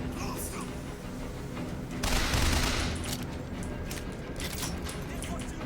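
Enemy gunfire in the first-person shooter BioShock, a dense burst of shots swelling loudly midway through and continuing as a steady rattle beneath background game noise.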